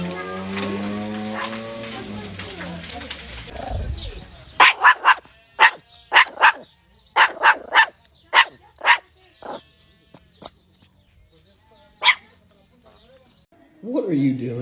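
A dog barks in a quick run of sharp, loud barks close by, with short gaps between them. People talk at the start and again at the end.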